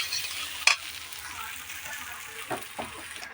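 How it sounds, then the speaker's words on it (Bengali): Young jackfruit, potato and prawns fry quietly in a pan with turmeric. A sharp clack of a utensil comes early, then soft sizzling and a few light stirring scrapes follow, faint and close. "একটু এরকম করে ভালো করে নেড়ে ছেড়ে ভেজে নেব"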